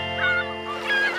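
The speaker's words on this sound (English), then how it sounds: "Go away, seagulls!" Seagulls calling in an animated children's scene at a coral reef shore, a few harsh honking squawks in two short bursts over a steady tonal background.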